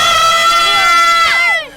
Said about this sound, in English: can you give everyone watching, all the children, everyone, a nice big cheer to show how much fun you're having today?